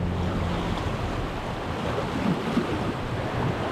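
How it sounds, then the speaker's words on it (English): River currents churn where braided channels collide at a big bend in remote Canadian wilderness, making a steady broadband rush of water mixed with wind buffeting. A few faint knocks sit under the continuous wash. "some tricky currents here where a bunch of the braids of the river all collide with each other as the river takes a big bend"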